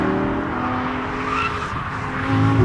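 A high-revving 2013 Lamborghini Gallardo LP550-2 V10 engine roars steadily at close range while drifting, with some tire noise. No one speaks.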